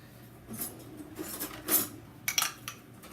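A metal spoon is picked up in a home kitchen and makes a few short, close clinks and taps against dishes, with a quick cluster of chinks near the end.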